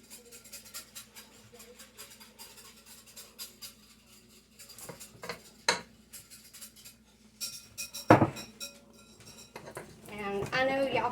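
Someone whisking in a bowl in the background of a home kitchen, a faint, steady stream of light clinks and scrapes that grows busier and louder toward the end, with occasional sharper metallic knocks.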